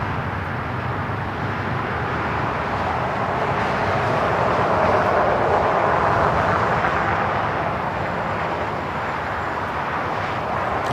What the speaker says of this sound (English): On the Pond Airways, Flight 126, operated by Air Japan, coming from Tokyo, Haneda 787-9 Dreamliner, heading to the gates of Tom Bradley